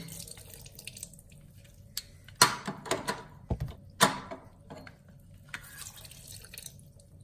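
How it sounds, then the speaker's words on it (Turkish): Lemon juice is squeezed into opened soda as a cleaning mix for octopus in a kitchen, giving a few close, brief dripping and splashing sounds over quiet room tone with no talking. "Limonu da bunun içerisine sıkıyorum."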